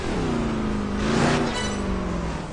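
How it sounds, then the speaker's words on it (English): Racing car engines in Project Gotham Racing 4, with a buzzy, rich two-stroke-like tone, loud and close, revving up and easing off in a steady drone. "some cars sounding like a two-stroke engine where the fuel mixture is a little too rich"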